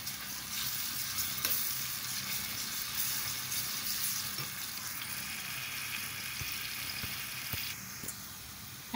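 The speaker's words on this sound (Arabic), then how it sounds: "انا هطش الطشه بتاعتها بزيت عشان تبقى خفيفه" Minced garlic fries in hot oil as a light topping, a close, dense and continuous sizzle with faint stirring clinks and no talk.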